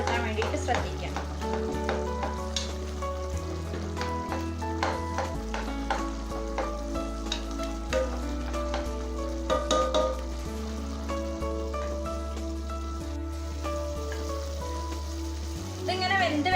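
Tapioca (kappa) cooks in a pan over a medium flame and is stirred now and then, giving a steady sizzle with scraping stirs under continuous background music.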